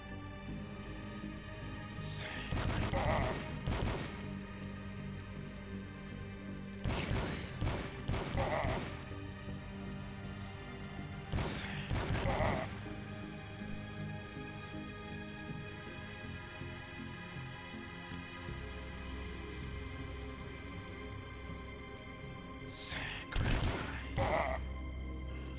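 Gunfire in the retro first-person shooter DUSK, heard as four separate bursts of rapid, loud shots, each a second or two long, with quieter game ambience in the gaps between them.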